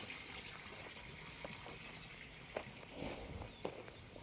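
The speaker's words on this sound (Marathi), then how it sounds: "तर पाणी पण चालू आहे बघू शकता तुम्ही ड्रिपला." Water running through drip irrigation lines in a capsicum field outdoors, a soft continuous hissing trickle with a few faint footstep-like thumps and rustles scattered through it.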